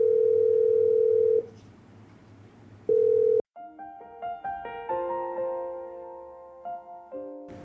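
A steady telephone dial tone sounds, cuts out, returns briefly, then a rapid run of touch-tone dialing beeps follows as a number is keyed in to call a broker.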